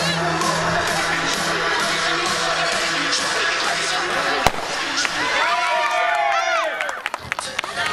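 A starting pistol fires at a children's relay race outdoors: one sharp crack in the middle, amid lively crowd noise with children's voices and talk, followed by excited shouting.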